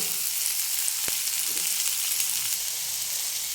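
Potatoes fry in a pan as a pale vegetable dish cooks, giving a steady close sizzle throughout with one brief stir or tap and no talking.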